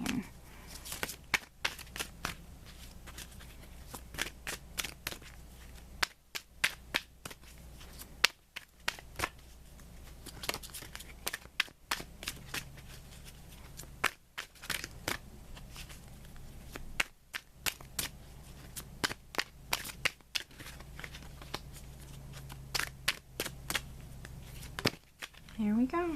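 Tarot cards are shuffled again and again in quick, crisp riffling strokes, near and fairly quiet, while a voice talks at times.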